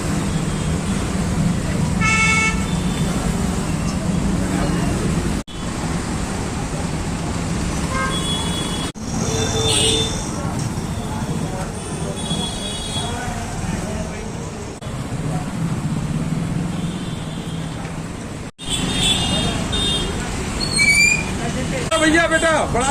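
A traffic jam at a market road junction near the Bihari temple in Sagar, India: car horns toot on and off over a constant roar of road noise, with people talking throughout.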